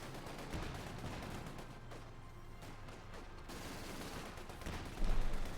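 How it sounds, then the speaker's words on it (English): Machine-gun fire in the video game Company of Heroes 2, as a faint, continuous rattle of distant automatic fire with scattered impacts beneath a busy battle ambience, and a louder thump near the end. "troops getting blasted by all machine gun fire"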